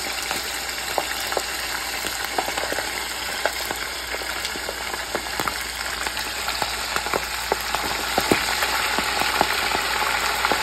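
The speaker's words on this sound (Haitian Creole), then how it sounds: "nous mettons le chicken là-dedans" Chicken pieces fry in very hot oil for a Haitian-style dish, making a close, steady sizzle packed with sharp popping crackles that grows slightly louder toward the end, with no talking.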